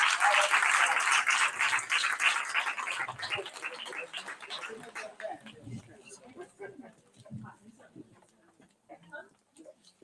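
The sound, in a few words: audience applause for the painter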